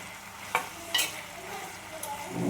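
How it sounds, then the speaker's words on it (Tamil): Vegetables sautéing in oil in a pan for a village-style dried fish curry, a continuous close sizzle broken by a few sharp stirring scrapes and clinks. "பாருங்கள் எப்படி சூப்பராக இந்த காய்கறிகள்லாம் அந்த எண்ணெயில் வதங்கி வரும்போது எவ்வளோ நல்லா இருக்கு"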